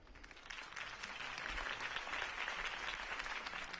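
A crowd greets the close of a mayoral campaign speech with steady applause that swells slightly and stays broad and even, heard at a moderate distance.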